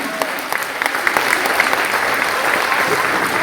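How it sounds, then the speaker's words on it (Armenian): Audience applause for the mothers at a vocal studio concert evening, a dense, steady clapping from a full hall that holds throughout without speech. "Եկեք ևս մեկ անգամ բարձր ծափահարենք մեր շատ"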